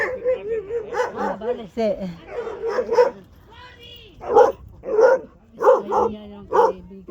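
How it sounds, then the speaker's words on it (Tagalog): A big dog barks in a few loud, close bursts, spaced out and mixed in with people talking excitedly over and between the barks. "Ang laki ng aso, guys."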